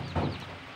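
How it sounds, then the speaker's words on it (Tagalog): A hen with her chicks gives a single short cluck, close by and fairly soft, followed by a quiet background. "ipakita ko sa inyo ang manok na may sisiw"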